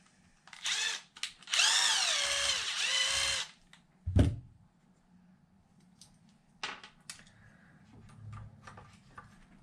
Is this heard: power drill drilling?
yes